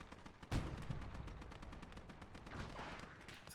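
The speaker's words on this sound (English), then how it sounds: "I've got the M8 shooting at me as well" Gunfire from an M8 armored car in Gates of Hell: Ostfront crackles in dense, continuous bursts across a World War II battlefield, with a sharp louder report at the start and another at the end.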